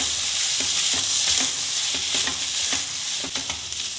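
Masala for Punjabi-style rajma fries in a pan while being stirred, a loud continuous sizzle broken by frequent scraping strokes of the spoon.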